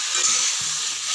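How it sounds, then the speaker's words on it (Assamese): Meat fries in a new kadai, giving a steady, close sizzle with soft scraping as the pieces are stirred, and no talking. "আকৌ এবাৰ লৰাই দিম।"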